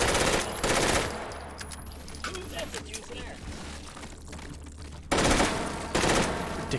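Rifle fire in the VR game H3VR: loud rapid bursts at the start and again near the end, with quieter clicks and handling noises between them.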